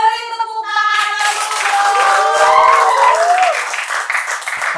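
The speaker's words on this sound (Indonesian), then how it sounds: "beri tepuk tangan" Applause from a podcast studio audience thanking a guest musician and actor, a burst of clapping rising after a brief vocal tone and holding steady near the mic with some voices mixed in.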